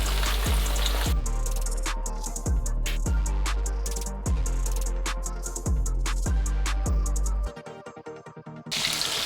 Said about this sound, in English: I just felt like frying some chicken today, some chicken tenders.